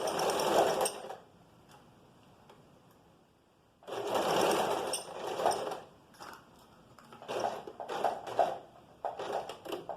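A sewing machine stitches the shoulder seam of a vest in several bursts of rapid, close mechanical whirring, separated by pauses of near silence, with short stop-start runs toward the end.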